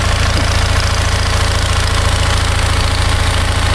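A mid-1970s Onan 4.0 CCK 1800 RPM generator engine with electric start runs on a charcoal gasifier, giving a loud, close, steady low-pitched chugging idle with even, rapid firing pulses throughout.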